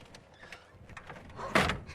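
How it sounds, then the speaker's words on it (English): The sliding cockpit canopy of a P-51 Mustang rolls shut with a soft scraping glide that ends in a louder closing clunk near the end, heard close up. "You want to help me close the canopy real quick so I can see what it was really like?"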